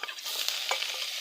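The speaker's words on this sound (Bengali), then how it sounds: "ভালো করে নেড়ে চেড়ে মিশিয়ে নেব।" Mustard greens are stirred in a hot frying pan, giving a close, continuous sizzle with quick scraping and rustling strokes of the spatula.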